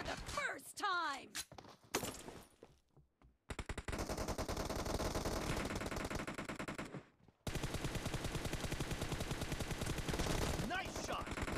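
Bursts of automatic gunfire in the mobile shooter BGMI (Battlegrounds Mobile India), loud and rapid, in two long sustained volleys after a short speaking voice and a pause.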